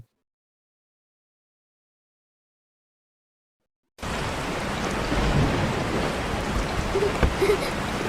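Steady rain pours heavily with a low rumble of thunder beneath it in an AI-generated rainy-day scene, starting abruptly after four seconds of total silence and continuing as a dense, even wash.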